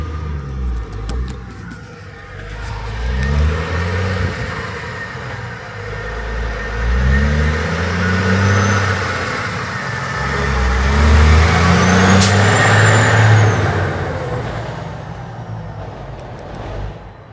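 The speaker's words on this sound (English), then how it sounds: "Oh, there's a massive truck coming." A massive truck passes close by on a road, its engine drone swelling and fading over several seconds and then rising again to a loud peak, with no voices over it.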